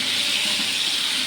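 Chopped tomatoes hit a hot pan while cooking North Karnataka avalakki, giving a loud, steady hiss of sizzling that fills the short moment without break.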